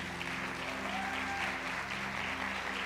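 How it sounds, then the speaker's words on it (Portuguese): A church congregation applauds steadily and evenly, a dense wash of clapping from many hands in a large room, sustained without pause from start to end. "Você pode dar um aplauso ao Senhor?"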